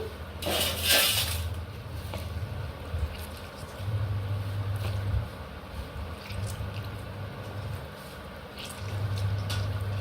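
Salted tomato pieces squeezed firmly by hand, giving soft wet squelches and drips close by, with a low steady hum running underneath.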